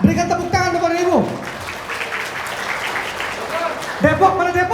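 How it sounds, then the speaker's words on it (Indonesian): Seminar audience in Bekasi breaks into applause for about three seconds, a dense wash of clapping between stretches of an announcer's amplified voice at the start and end. "Berikan tepuk tangan, Bapak dan Ibu"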